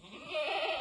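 A farm goat, one of a herd kept for food security in a West Sumatran village, gives a single sustained bleat that grows louder over less than a second, close by.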